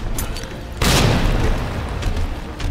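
A grenade blast from the Resident Evil 2 remake booms suddenly with a heavy, broad rumble that lingers and decays under the dense in-game noise around it.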